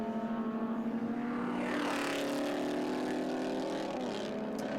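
MGB sports cars race hard down the back straight at a Winton circuit event, engines droning loudly and steadily with rising revs as one car closes on another.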